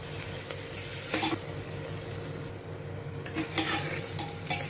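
Onions sautéing with salt and slit green chillies in a pan for Telangana bagara rice and mutton curry, a close continuous sizzle with several brisk spatula strokes.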